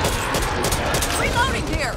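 Gunfire in the video game Back 4 Blood, dense rapid bursts of shots crackling close and loud over two seconds, with voices talking amid the shooting.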